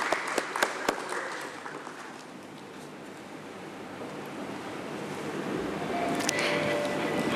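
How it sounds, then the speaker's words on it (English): Applause from guests at a company stock listing ceremony, a broad rushing wash of distant clapping with a few sharp close claps at the start, swelling slightly toward the end. "Let's have a huge round of applause for all our esteemed gathering amongst us."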